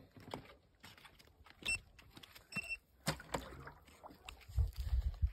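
Short high electronic beeps chirp a couple of times from a fishing bait boat warning it is not calibrated, over quiet splashing and handling noises outdoors.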